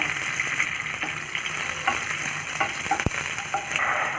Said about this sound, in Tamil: இப்போ ஒரு பேனில் வந்து கொஞ்சம் தாராளமாக நல்லெண்ணெய் விட்டுக்கோங்க கடுகு சேர்த்துக்கோங்க